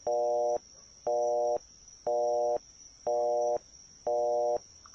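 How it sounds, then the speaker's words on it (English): Repeating electronic phone tone in the Phoenix Wright: Turnabout Storm game, five even steady beeps about half a second each with short gaps, clear and alone over a faint constant high hum. "I'll just hit the redial button on my phone."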